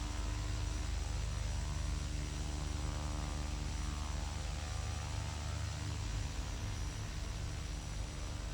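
A King Air 200 turboprop runs up for a prop governor test, a dense steady roar with a low droning hum that holds without pause, loud and close, with no voices heard.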